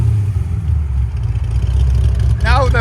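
A 2003 Ford Mustang SVT Cobra with a supercharged 4.6L V8, headers and exhaust valves open, gives a loud, deep, continuous engine rumble close by, and a brief voice cuts in near the end.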